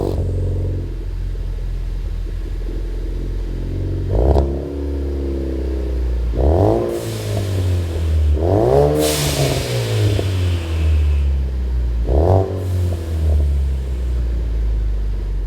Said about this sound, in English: Definitely has a deeper tone than the factory system, and for once that sound's coming from the exhaust, not the speakers.